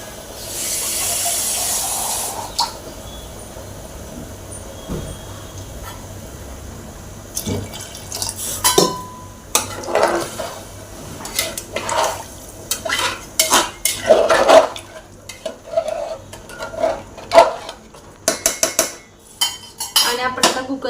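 A spoon stirs whole masoor lentil pulao in a pot. Quiet at first, it builds into irregular scraping and clinking of metal against the pot in bursts, close by and with no talk.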